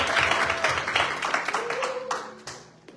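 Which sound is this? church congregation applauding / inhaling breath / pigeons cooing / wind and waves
church congregation applauding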